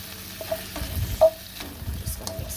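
Cauliflower florets stirred into black bean sauce in a pan, a quiet low sizzle with soft scraping and a few clicks of a utensil against the pan, heard alone without talk.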